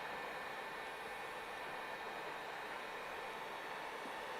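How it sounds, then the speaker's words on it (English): A heat gun blows a steady, faint airy hiss as it shrinks glue-lined, heavy-walled heat shrink onto the end of a heat cable, with no talking. "we're going to heat shrink this and seal this on"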